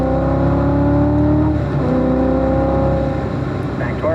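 Corvette engine on a race track at a Ron Fellows Corvette owners school, loud and continuous with rising tonal revs that dip and climb again through gear changes, a voice talking over the engine.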